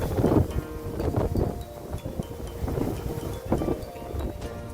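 Strong, unfavorable headwind buffeting a touring cyclist's microphone near Aigues-Mortes, gusty low rumbling bursts that pulse irregularly and loudly throughout, with no talk.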